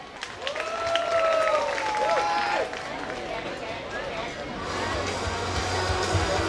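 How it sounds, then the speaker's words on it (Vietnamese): Audience applause welcoming a guest at an event, a steady wash of clapping and crowd noise running throughout under a host speaking over it. "Và những tràng pháo tay của chúng ta có thể kéo dài hơn nữa được không quý vị khách quý?"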